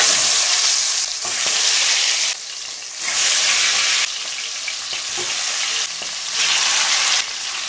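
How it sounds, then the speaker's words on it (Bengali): Chicken frying in a pan sizzles loudly and steadily for several seconds, its hiss swelling and dipping in waves as pieces shift and are stirred, with no voices. "এখানে আমি চিকেনটা ভাজতে বসিয়ে দেবো ঢাকা দিয়ে"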